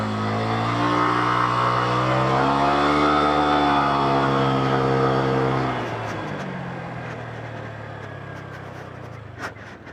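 A Honda Click 125 scooter fitted with a 1K center spring and 14° pulley revs hard nearby, its engine tone climbing and holding high before easing down to a lower, rougher idle-like drone.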